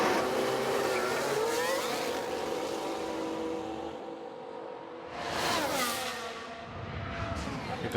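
A Formula 1 car's engine screams past in F1 Manager 2022 at Zandvoort, loud high-revving whine sweeping by, then a second car roars through shortly after, with no talk over it.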